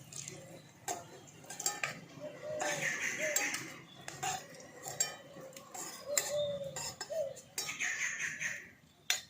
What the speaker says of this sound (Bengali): এখানে কোপ্তাগুলো লাল লাল করে ভেজে নিয়েছি, এবার এগুলোকে তুলে নিচ্ছি।